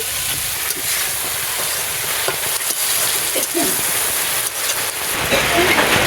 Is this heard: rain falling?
yes